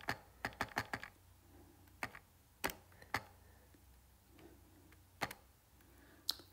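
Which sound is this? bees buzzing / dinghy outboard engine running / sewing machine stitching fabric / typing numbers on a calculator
typing numbers on a calculator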